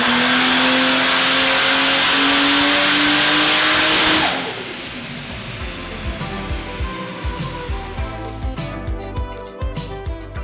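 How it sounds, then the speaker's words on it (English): A turbocharged Barra engine in a Holden with a blown head gasket revs loud and high, then drops to a rough, pulsing idle with rhythmic lumpy thumps. "So George, looks like you've successfully run this engine in. Now it's running"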